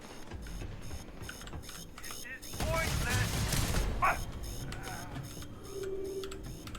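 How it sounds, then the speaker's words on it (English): Automatic turrets fire during a combat exchange in the space game Starfield, a dense burst of rapid mechanical shots rising in the middle of the clip over a steady layer of game noise, with a voice talking. "And now they fight with turrets."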